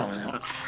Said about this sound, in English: Ah, the evil dog is named Princess Fluffykins.